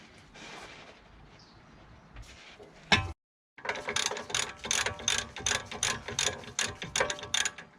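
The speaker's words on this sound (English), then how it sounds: "we'll remove the two caliper mounting bolts" A ratchet working on the brake caliper mounting bolts of a BMW E87 1 Series with an 18mm socket: a few clicks, a short silence, then rapid close ratcheting in repeated bursts.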